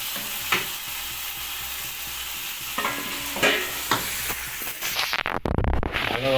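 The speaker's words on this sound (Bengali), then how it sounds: "ভালোভাবে মশলাগুলোকে লিভারের মধ্যে মাখিয়ে নিয়ে একটু কষে নিতে হবে।" Chicken livers frying in a pan with spices, a steady loud sizzle broken by scraping stirs of a spoon, with a sharp burst of hissing steam near the end.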